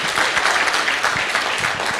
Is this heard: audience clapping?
yes